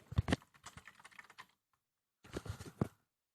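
Keys clatter on a tablet's keyboard case in two quick bursts of close, light tapping separated by a brief silence.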